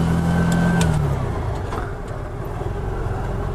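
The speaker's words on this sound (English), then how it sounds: "First time I ridden a tuk-tuk. Or the Piaggio Ape. Fuel injected." A fuel-injected Piaggio Ape City tuk-tuk engine runs close by while riding, a steady mid-pitched drone that eases off after a brief rise, with no voices.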